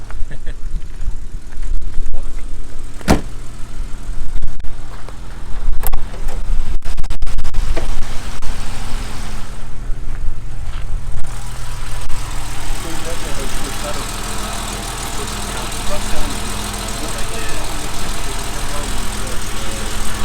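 A 1978 Jaguar XJ 3.4 barn find idles steadily at about 800 rpm with a low rumbling drone and occasional clicks and scrapes, close by under the open bonnet, with some talking over it.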